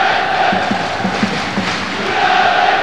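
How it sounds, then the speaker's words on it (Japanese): A stadium crowd at an Urawa Reds football match, a retirement match against a team of former Reds players, sends up a steady, loud roar of applause and crowd noise throughout, with no clear voice above it. "大きな拍手です"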